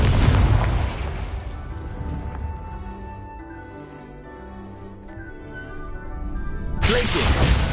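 A Confringo spell explosion in the Hogwarts Legacy video game gives a loud booming burst that fades into a low rumbling tail, and then a second blast follows.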